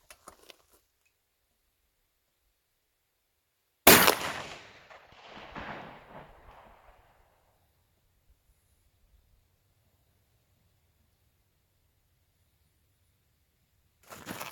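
A rifle firing rifled buckshot outdoors: one sharp, loud report trailing into a rolling echo, then long quiet before another shot begins at the very end.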